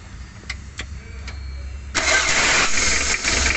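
Mitsubishi L300 diesel engine with swapped injector nozzles, rough-running and weak, heard near as a few faint clicks before the starter catches and the engine bursts into a loud, steady rough idle.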